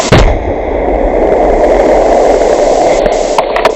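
Grenade blast thrown into a combat position in close-quarters fighting in Ukraine: a heavy, loud explosion followed by a sustained roaring rumble and debris noise that persists throughout.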